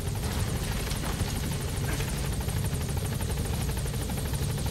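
A helicopter in the video game Metal Gear Solid V: The Phantom Pain, its rotor thrumming in a steady loud rhythmic beat over a broad engine roar, continuous throughout.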